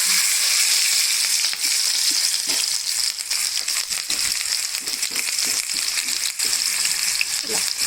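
Sliced onions fry in hot oil with a tablespoon of cumin for a chicken fry, giving a steady, close, dense sizzle with scattered crackles and pops that run the whole time without letting up.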